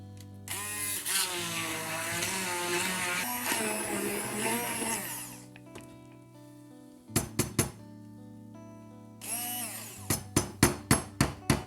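A metal whisk works through mashed potatoes in a bowl for a fish pie, a steady scraping churn followed by bursts of sharp metallic clinks and taps against the bowl's rim.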